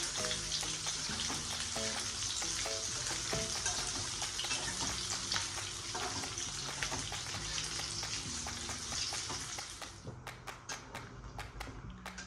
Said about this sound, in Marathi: आपण हे बोंबील आहे ना खमंग भाजून घेऊया, चांगले तळून घेऊया